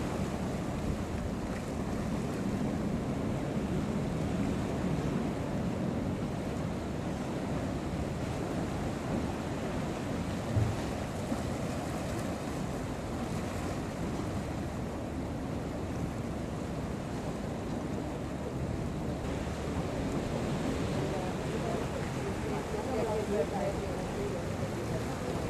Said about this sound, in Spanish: ha resistido los duros embates de las olas durante décadas